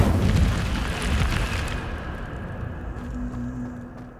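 A fire spell, Incendio, cast in Hogwarts Legacy, gives a loud, rumbling whoosh and burst that fades into a lingering crackle and roar.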